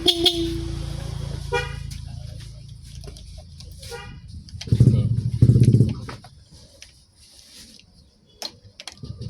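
A Yamaha NMAX scooter horn honks in two short blasts over a low idling engine, with a few faint clicks and beeps around it.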